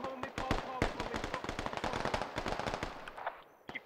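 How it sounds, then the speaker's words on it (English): Rapid, steady machine-gun fire rattles in sharp repeated bursts down a road in a video game battle, fairly close and continuous, with occasional voices mixed in. "MG firing right down the road."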